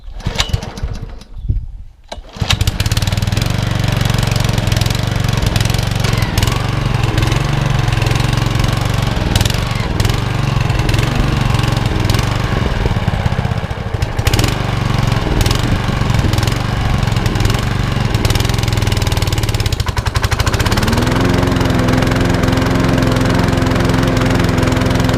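A Mountfield lawn mower engine runs loud and steady while warming up, a close continuous drone after a brief rough start, with its pitch shifting slightly near the end.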